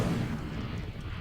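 Incendio fire spell cast in Hogwarts Legacy, a dense rumbling whoosh of flame bursting out at once and sustained for about a second, loud and close with no voice over it.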